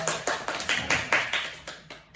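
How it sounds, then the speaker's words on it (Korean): A short run of steady, evenly spaced claps, close and clear, about ten in two seconds, slowing slightly toward the end. "박수 한번 쳐주세요."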